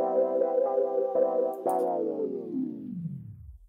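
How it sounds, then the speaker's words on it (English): A sustained synth tone from Arturia's Tape Mello-Fi plugin suddenly slows and sinks in pitch, winding down like a tape stopping until it fades out, loud and alone. "So let's try out this tape stop function."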